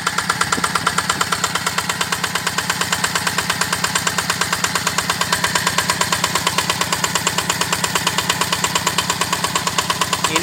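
An 8.5 HP Yanmar diesel engine drives a 3-inch Ebara water pump, running at a steady idle with a rapid, even chugging pulse close up and no talk over it.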